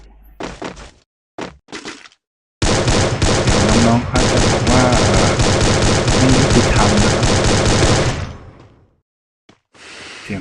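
Rapid gunfire from the video game Free Fire sounds in a loud, sustained burst for several seconds, preceded by short shot bursts and separated by brief silences, with a voice briefly heard.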